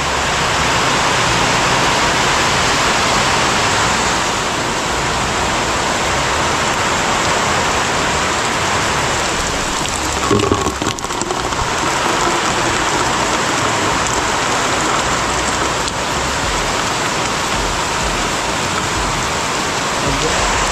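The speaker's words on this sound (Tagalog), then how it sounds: "Grabe, lakas ng ulan." Heavy rain pours down in a dense, steady roar, loud and unbroken for the whole stretch, with a brief knock partway through and faint voices underneath.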